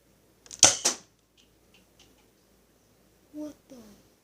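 A Nerf toy blaster fires once, a sharp, close pneumatic thwack with a quick follow-up rattle, then near silence before a voice speaks briefly.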